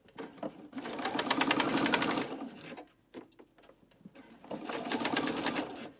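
Sewing machine back stitching fabric, running in two fast rhythmic bursts of needle clatter separated by a brief quiet pause with faint clicks, heard close and clear.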